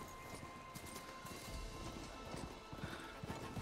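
Hooves of Charger machines, horse-like robotic creatures in the video game Horizon Forbidden West, clop in a loose running rhythm under steady ambient game sound, moderately quiet throughout.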